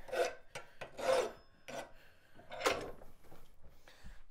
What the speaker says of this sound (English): So I'm just going to file the outside just a little bit.